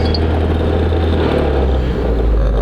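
A car engine revved in a cold garage, a loud, steady, close drone of low rumble that holds throughout with no voices.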